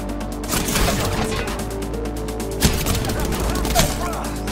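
Rapid gunfire in a multiplayer shooter video game, a dense continuous volley with a couple of sharper louder shots standing out, players' voices mixed faintly underneath.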